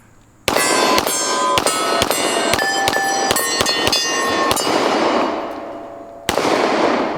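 Rapid sharp gunshots from a 10mm pistol outdoors, about a dozen loud close cracks in quick irregular succession with ringing echo tails, then a pause and one more shot.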